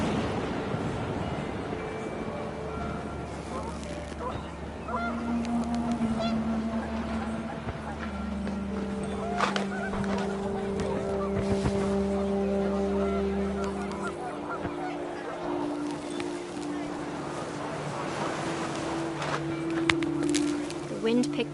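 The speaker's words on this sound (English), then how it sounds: "The wind picked up, and panicked geese appeared and quickly went." Panicked geese honk in the video game What Remains of Edith Finch, their calls scattered over a steady windy, rumbling ambience with a low drone, continuing through most of the stretch at moderate loudness.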